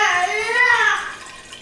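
Apple cider vinegar poured into a container after pressure has come off it, a short bright splashing pour heard close up and alone.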